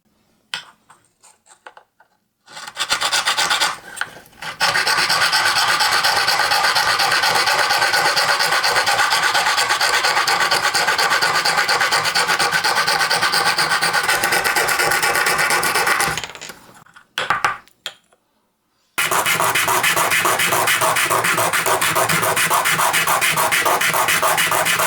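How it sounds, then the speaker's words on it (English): Bamboo being cut by hand with a saw, a steady, loud rasping that runs for about thirteen seconds, pauses briefly with a few scrapes, then resumes strongly toward the end. "First, I need to saw off the excess length."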